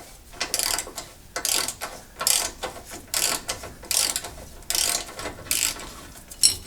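A ratchet loosens a rusted bolt on the front end of a second-generation F-body car, loud bursts of rapid clicking in steady back-and-forth strokes, close up with no talking.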